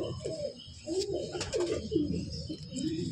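A Giribaz pigeon, an old-generation tumbler breed, gives soft, low repeated coos close by, with faint chirps and light rustling in a quiet setting.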